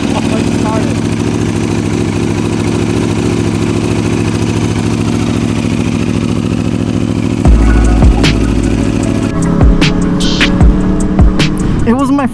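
A sport bike's engine idles with a steady, loud mechanical chug, then catches and revs up sharply near the end, rising pitch sweeps and throttle blips over the running engine, close to the microphone.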